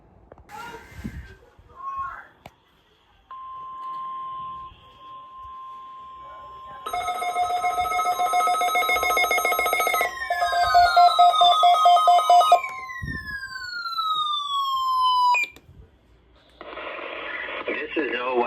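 NOAA Weather Radio plays Emergency Alert System test tones: bursts of data noise, then a loud steady alert tone and shrill multi-tone warbles that sweep downward, framed by brief pauses and a voice speaking at the start and end.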